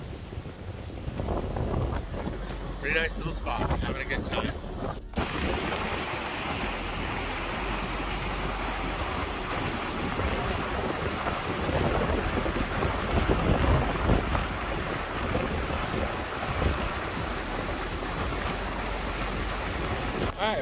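Strong wind buffets the microphone outdoors beside a creek waterfall spilling over a dam, a loud continuous roar with gusting rumble throughout, while someone briefly speaks near the start.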